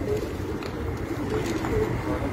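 Pigeon cooing on a rooftop loft, soft low repeated coos under a steady background murmur, with no clear talk over them.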